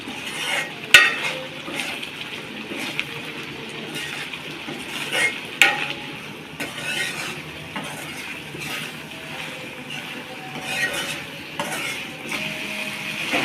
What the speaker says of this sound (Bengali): ভালো করে কষাই নিতে হবে যাতে গন্ধটা না থাকে